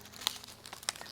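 A Ziploc bag of sunflower seeds crinkles in brief, quiet handling, with two sharper crackles as tape is pressed over it during garden seed starting.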